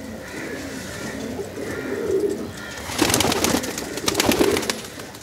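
Pigeons in a loft shed coo softly and repeatedly, their low calls layered under rustling and wing flutters that grow busier and louder midway through.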